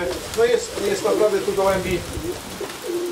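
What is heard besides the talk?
pigeons cooing in a racing pigeon loft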